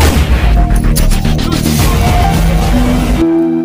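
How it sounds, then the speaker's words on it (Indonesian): Gunfire in an Indonesian mafia short film: a loud, close cluster of sharp shots over a dense, booming background, ending abruptly. "Udah Bos, tembak aja."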